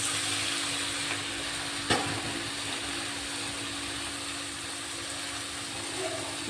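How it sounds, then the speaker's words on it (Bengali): Spinach frying in a pan and being stirred, a continuous soft sizzle with a single sharp knock of the utensil against the pan early on, steady and fairly quiet. "ভালো করে এবার আমি নাড়াচাড়া করে নেব।"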